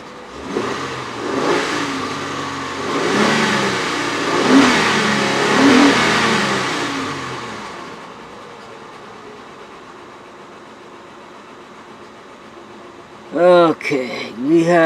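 Honda Pilot engine idling and revving with a cylinder 3 misfire, an uneven, stumbling rhythm, loud and close, then quieter before a short burst of speech at the end.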